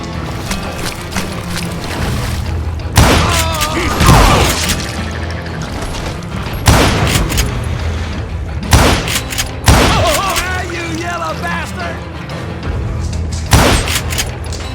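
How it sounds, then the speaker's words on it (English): A fusillade of gunfire in Call of Juarez Gunslinger, with heavy booming shots and impacts in scattered bursts over a busy, rumbling background, loud and close. "a fusillade of bullets come raining down from on high"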